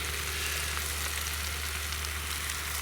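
Onions caramelize in a pan over a wood gas stove with Polish kielbasa, giving an even, soft, continuous sizzle over a low steady hum, with no talk.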